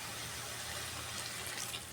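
A small splash of water goes into a pan of cucumber stir-fry, a soft, continuous hiss of pouring that stays quiet and steady for a couple of seconds.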